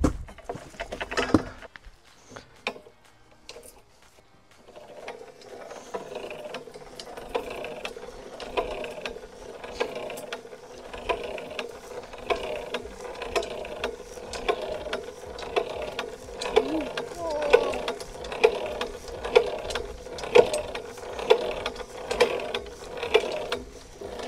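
Dino pipe bender cranked by hand, bending garden pipe into rings outdoors; a steady, rhythmic ratcheting clatter of gears and pawl repeats in regular strokes, moderately loud, with a few sharper knocks at the start.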